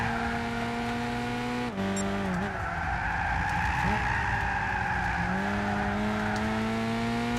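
Renault Clio in Gran Turismo 6 skidding with tyres squealing through corners: a continuous loud engine drone overlaid with wavering tyre squeal that dips and rises with steering, no voices.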